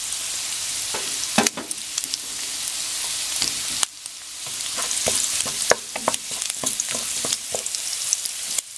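Garlic sautés in hot oil in a pan for ginisang toge, a steady close sizzle broken by scraping clatters of stirring.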